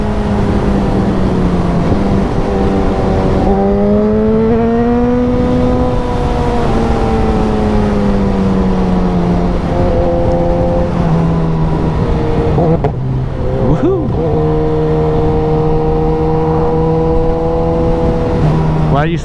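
A powerful motorcycle on a Scottish road from Oban back to Glasgow accelerates to overtake a black Volvo, its engine note rising and falling steadily and close up over continuous wind and road roar, with a rider talking at times.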